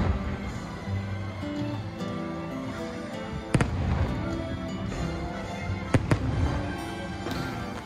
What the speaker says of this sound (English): they put on this somewhat startling fireworks display